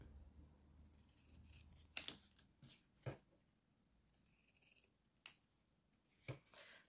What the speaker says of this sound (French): Alors, c'est un petit peu dur à couper puisque c'est encore très humide.